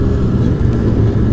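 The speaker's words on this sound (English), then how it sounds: "Got a very snappy motor. It's an 800 twin, good power." A Polaris Edge X 800 twin snowmobile engine hums loud and close in a short, steady burst of motor drone.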